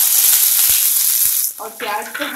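Two medium onions, finely chopped, sizzle loudly in hot oil with cumin in a kadai, a steady hiss that dips as a voice begins speaking over it midway.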